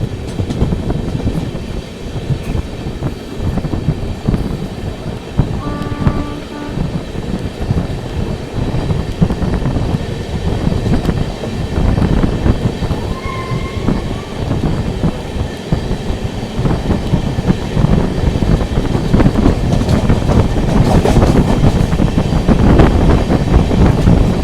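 Nagercoil–Mumbai LTT Express train passing close by, a steady loud rumble of wheels and carriages that swells toward the end.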